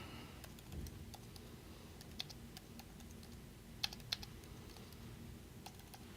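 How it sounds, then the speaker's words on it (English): Quiet computer keyboard typing, a run of close, sharp key clicks at an uneven pace with a couple of louder taps partway through, over a faint room hum. "So I'm going to type this out."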